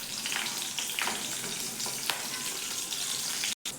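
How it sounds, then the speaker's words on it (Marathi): Green chili and garlic sauté in a pan with a loud, continuous close-up sizzle, scattered stirring scrapes and taps, and a brief dropout near the end. "आपण मिरची आणि लसूण आहे ना आपण जो घेतलेला, तो थोडासा परतून घेऊयात अगोदर"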